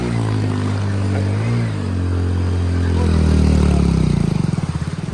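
A motorcycle pushes through deep floodwater with its engine held at high revs, giving a loud, close, steady drone that rises and then pulses as the bike labours through. No one speaks.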